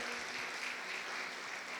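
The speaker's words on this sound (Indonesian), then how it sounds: "kita tepuk tangan dulu untuk Pastor Caroline" Dense, steady applause from a church congregation fills the whole moment, even and sustained with no voices standing out.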